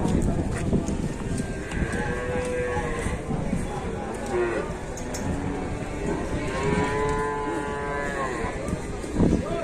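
Jumbo Simmental cattle arriving at a busy livestock market moo repeatedly in long, drawn-out calls, several animals overlapping close by amid crowd noise and chatter.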